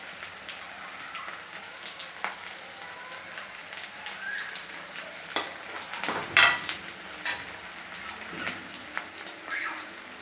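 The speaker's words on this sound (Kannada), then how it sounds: "ಈಗ ಈರುಳ್ಳಿ ಫ್ರೈ ಆಗ್ತಾಯಿದೆ." Onions frying in a pan at home, a steady soft sizzle with occasional clinks of a utensil stirring against the pan, close and moderately quiet.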